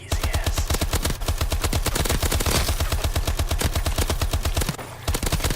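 Sustained rapid-fire bursts from the SAC-3 gun in Call of Duty Advanced Warfare, a loud, dense, fast rhythmic rattle of shots running almost continuously with a brief pause near the end.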